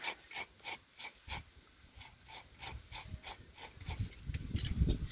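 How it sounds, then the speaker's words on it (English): Whole nutmeg grated by hand for homemade chocolate, faint rhythmic rasping strokes about twice a second, growing rougher and more continuous toward the end. "so grating the nutmeg."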